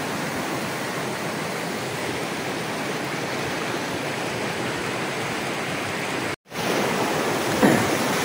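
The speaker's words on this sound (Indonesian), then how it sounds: "ini sungainya ya nempel ke lokasi sawah ini belakangnya ya" A river runs right alongside a rice field, giving a steady, even rush of flowing water that stays loud and unbroken throughout, cut off for a split second near the end, with no voices.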